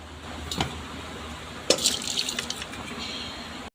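Water poured from a tap into a small cooking pot holding cloves and three dates gives short splashing bursts, then a longer trickling fill, close and moderately loud with no talking.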